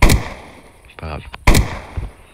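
Two sharp, loud gunshots in a video game ring out about a second and a half apart, each with a short tail, with a brief burst of game noise between them.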